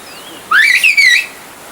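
A single close, loud whistle from the whistled language of the Kuşköy valley rises and wavers in pitch over about three quarters of a second, a clear melodic phrase standing alone against faint background noise.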